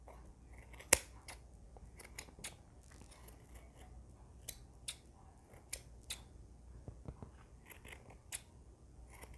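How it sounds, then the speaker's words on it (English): Scissors trim the yarn of a handmade pom pom, giving a series of crisp, close snips at irregular intervals over a quiet background. "When you find some uneven spots, you can start trimming again."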